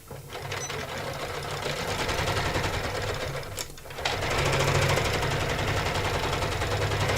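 An embroidery sewing machine stitches steadily in a sewing room, a loud, close, continuous mechanical whir with a fast rhythmic clatter and a brief dip in the middle before it carries on evenly, with no talking.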